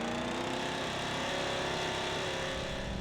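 A rare old tractor engine revs hard at full throttle, a loud, steady mechanical roar that fills the whole stretch without pause.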